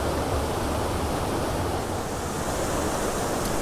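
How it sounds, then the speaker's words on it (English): Waterfall beside the old palace ruins near Dunfermline Abbey, a steady broadband rush of falling water that holds constant and fairly loud throughout, with no voices. "the waterfall, look at this"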